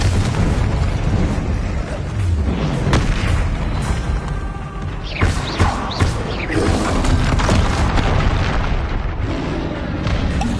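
Spell explosions from the Confringo curse in the video game Hogwarts Legacy, a dense, loud barrage of booming blasts and bursts layered over continuous game effects and rumble throughout.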